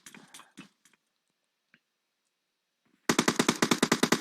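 Rapid automatic gunfire from a video game erupts near and loud as a dense burst of evenly spaced shots, following a stretch of faint scuffs and near silence.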